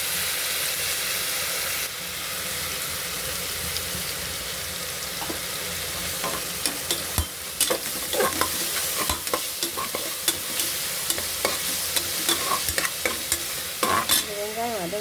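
Onion, green chili, ginger-garlic paste and turmeric sizzling and frying in a pan for vegetable biryani, with steady hiss and repeated stirring scrapes growing busier partway through, no talk.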